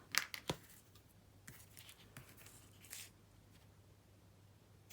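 Scissors snip thread during saddle stitching on Kraft Tex, a few quick, close cuts at the start followed by faint, scattered clicks in a quiet room.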